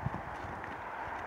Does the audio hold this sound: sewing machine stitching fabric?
no